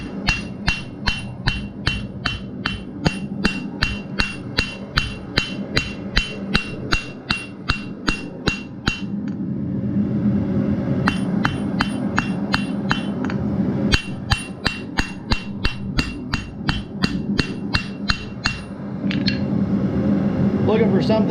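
Hammer making flat blows on a steel fire striker being forged, a run of sharp ringing strikes in steady rhythm, then a pause filled with roaring background noise, and a second burst of blows, loud and close.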